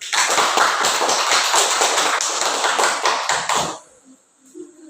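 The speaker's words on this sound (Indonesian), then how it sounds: "Tepuk tangan dulu untuk semua kelompok." A class of students claps together for all the groups, a dense run of close, sharp hand claps that carries on for about four seconds and then stops abruptly, leaving near silence.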